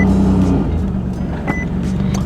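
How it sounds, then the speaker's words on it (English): A stock turbocharged VQ car engine rumbles loudly and steadily up close, a deep exhaust drone with no talking. "the exhaust sounds amazing on this car"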